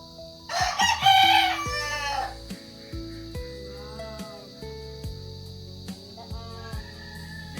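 A rooster crows once, loud and close, followed by clucking fowl and bleating goats or sheep nearby, with backyard background tones continuing underneath.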